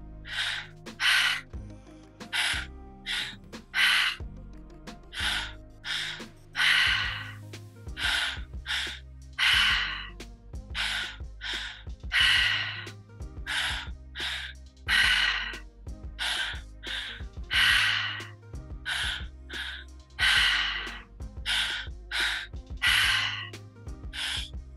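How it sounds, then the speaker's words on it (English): Steady rhythmic breathing in and out through the mouth, each deep two-part inhale followed by a long exhale, repeated many times close to the microphone at an even, unhurried pace. "Again, in and out through the mouth, two breaths in, belly, chest, exhale."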